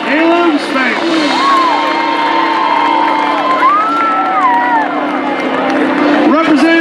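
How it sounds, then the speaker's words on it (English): A crowd cheers and whoops for sophomores at a school homecoming, a dense, sustained roar of voices with high shouts sliding over the top, steady and loud from start to finish. "Applause for the sophomores"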